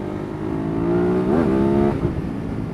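A Ducati Hypermotard 939 motorcycle engine revs hard on the throttle on a greasy road, a steady drone that rises in pitch, swells and falls back, loud and close with no talking.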